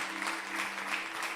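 A church congregation at an Italian worship service claps hands steadily and fairly faintly, the applause running continuously with a low sustained hum beneath it.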